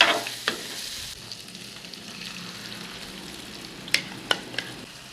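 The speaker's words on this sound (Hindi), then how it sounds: "कलेजी को डालने के बाद इसको अच्छे से फ्राई करेंगे इसके साथ।" Marinated liver (kaleji) frying with spices, cumin and ginger-garlic paste on a tawa over high heat, giving a steady close sizzle with a few sharp scrapes and clicks of stirring near the end.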